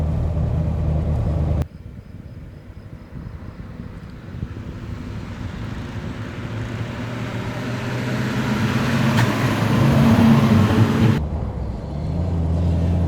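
A 1940 armoured Mercedes 770 open touring car, weighing nearly five tonnes, runs with a steady low engine rumble and wind noise that build gradually to a louder stretch before easing slightly.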